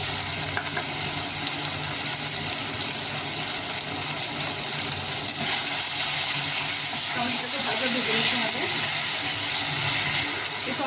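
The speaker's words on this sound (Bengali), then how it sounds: "সবকিছু একটু ভাজাভাজি হয়ে গেছে" Vegetables, including okra and tomato, frying in a pan with a continuous loud sizzle and some stirring scrapes, close up and steady throughout.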